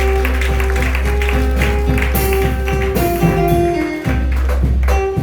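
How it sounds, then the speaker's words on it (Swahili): A church congregation claps in a steady, rhythmic beat during a worship service, the claps layered over sustained music and a few voices. "Haya, pigia Yesu makofi."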